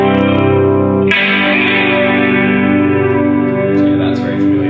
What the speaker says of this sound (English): This sort of subtle chorus.